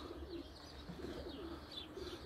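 Pigeons coo softly and steadily at a loft after a training flight, a low continuous murmur of several birds with faint chirps above, fairly close and without talk.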